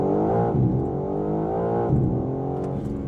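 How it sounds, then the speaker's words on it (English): 2025 BMW M4 Competition xDrive launching with launch control: a loud, sustained engine drone climbing in pitch, with two brief dips as the gears shift, heard close and steady with no talking. "Preparing launch control, launch."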